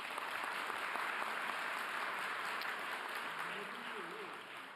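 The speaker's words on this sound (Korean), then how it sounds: "박수 부탁드립니다." An audience at a town hall meeting claps in sustained, even applause that fills the room, fairly distant and gradually easing toward the end, with a faint voice underneath.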